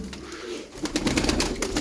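Tumbler pigeons coo in a loft, a steady run of low, throaty coos that swells louder halfway through, with a few rustles and wing flutters mixed in, fairly close and with no talk over it.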